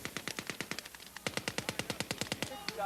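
Rapid bursts of gunfire crack out in a simulated military platoon assault at an Armed Forces Day demonstration, a fast run of sharp shots, a short gap, then another loud volley, close and dominant.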